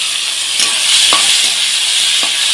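Chopped onion and slit green chillies fry in hot oil, a loud, dense sizzle that runs without a break, with a few clinks and scrapes of stirring and no one talking.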